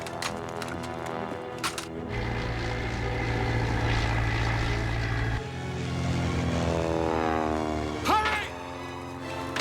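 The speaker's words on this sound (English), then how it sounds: "German. You can tell by the sound of the engine." A German aircraft engine drones loudly and steadily in the foreground, with a faint voice briefly underneath and a sharp bump near the end.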